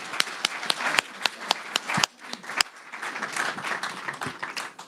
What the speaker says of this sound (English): If we could get a round of applause for our wonderful guests.